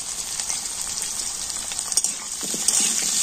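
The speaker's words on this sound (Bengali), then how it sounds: "তো আলুটা কিন্তু লাল লাল করে ভেজে নেব।" Potato pieces fry in hot oil with turmeric and salt, giving a steady, close, bright sizzle that runs unbroken for a few seconds, with faint stirring scrapes near the end.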